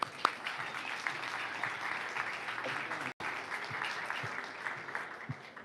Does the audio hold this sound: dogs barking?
no